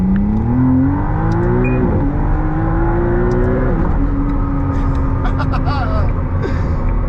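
A McLaren Artura twin-turbo V6 hybrid supercar on the street accelerates, its engine note climbing in steady revving sweeps and shifting pitch, loud and close throughout.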